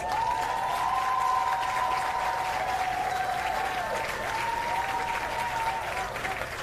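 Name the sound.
audience applause at award ceremony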